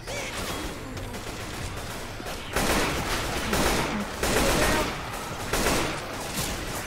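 AK-47 rifle fire in the zombie co-op shooter Left 4 Dead 2, loud sustained bursts of automatic gunfire with a few brief gaps, steady and dense throughout with no talk.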